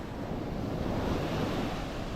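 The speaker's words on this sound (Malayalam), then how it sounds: "നല്ലപോലെ അടിച്ച് കയറി വരുന്നുണ്ട് വെള്ളം" Sea surf surging onto a shoreline near a house, a steady broadband roar of breaking waves with wind buffeting the microphone, loud and continuous with no talking.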